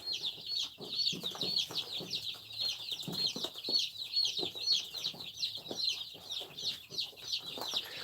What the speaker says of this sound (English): I got 100 chicks,